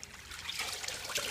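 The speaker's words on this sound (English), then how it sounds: "He takes a handful at a time, puts it into the sack, and then mixes it up well with the water." Kava root powder being mixed by hand with water inside a cloth sack, a soft continuous wet trickling and sloshing, close and moderately quiet.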